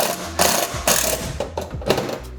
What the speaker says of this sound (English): I'm just gonna screw that right to the side of the computer.